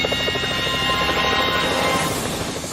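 A rescue helicopter hovers close overhead during a mountain hoist, its rotor thumping steadily and engine whine droning loud and unbroken throughout.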